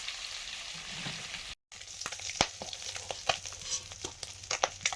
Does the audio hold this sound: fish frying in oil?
yes